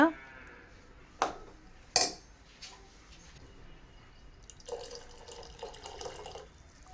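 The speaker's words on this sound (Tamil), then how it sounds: "இப்போது தண்ணி வந்து சேர்த்தாச்சு." Water is poured into a metal cooking pot or pressure cooker on a home kitchen stove, opening with a few sharp metallic clinks and then settling into a soft, steady splashing pour that runs for a couple of seconds.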